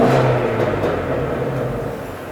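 Shelby GT350 with the exhaust resonator deleted giving a quick rev, a loud close blip that rises and then settles back into a low rumble.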